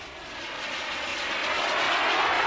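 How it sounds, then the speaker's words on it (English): A radio-controlled, jet turbine-powered model aircraft in flight gives a steady, broadband turbine rush that swells gradually louder as it nears. No voices. "This is his first jet turbine-powered model."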